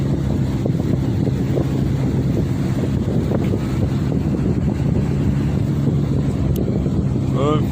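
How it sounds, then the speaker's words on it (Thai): Strong wind buffets the microphone during a boat trip on a river in Laos, a constant roaring rush mixed with the drone of the boat and water, loud and unbroken throughout. "ลมพัดเย็นดี"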